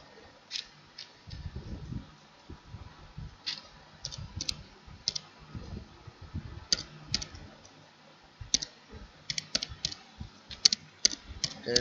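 Keystrokes on a computer keyboard while entering a drug composition in pharmacy management software: light, irregular clicks in scattered bursts, near and fairly quiet, with a low murmur underneath.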